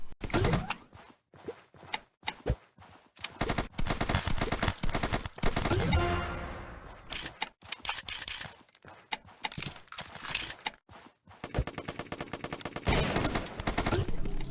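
Bursts of AK rifle fire from the browser game ZombsRoyale.io, loud rapid volleys broken by short pauses and occasional single shots, with other game effects mixed in across the stretch.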